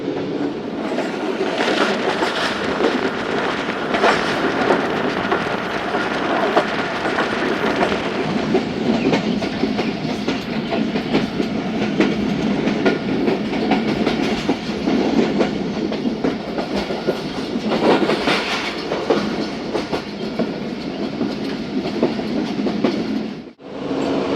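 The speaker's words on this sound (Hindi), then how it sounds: "घोटकी रेलवे स्टेशन पहुंची है ट्रेन" Tezgam passenger train running on the rails, with a steady loud rumble and rhythmic clickety-clack of wheels heard from on board, continuous for the whole stretch.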